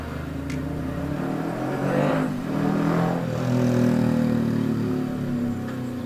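Cars and motorcycles pass in slow traffic on a road under repair in Navotas, a continuous engine rumble swelling as vehicles approach and move by nearby.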